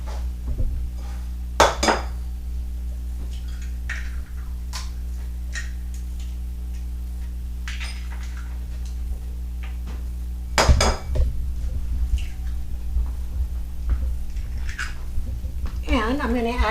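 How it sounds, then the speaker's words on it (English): Three eggs are cracked into a bowl for savoiardi batter, heard as a few sharp close taps and clinks over a steady low hum. "Now I'm going to take my eggs, the 3 eggs, and I'm going to put them in this bowl"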